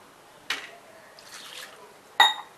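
A crab is rinsed in water for an Aagri-style stuffed crab dish: two close splashy sloshes about two seconds apart, with softer trickling and dripping in between.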